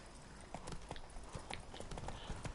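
Hooves of a horse clip-clop in a steady walking rhythm in The Witcher 3: Blood and Wine, quiet and close with faint background ambience.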